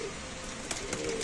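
Pigeons coo softly at a pigeon market, low throaty cooing over a busy, noisy background with brief sharper bursts.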